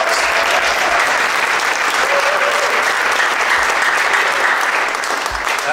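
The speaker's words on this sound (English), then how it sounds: "Please give them your applause." A concert audience at the UNLV Spring Jazz Fest applauds the big band's saxophone section, including baritone sax, with dense, even clapping sustained throughout.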